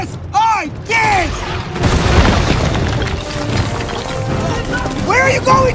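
A booming airstrike explosion in The Mummy (directed by Alex Kurtzman) rumbles loud and sustained under shouting voices, with whistling, chirping tones at the start and end.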